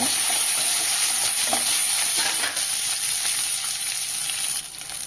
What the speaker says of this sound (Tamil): இது கூடவே கருவேப்பிலை இலைகளை சேர்த்துக்கோங்க இதுவும் நல்லா கலந்து விடுங்க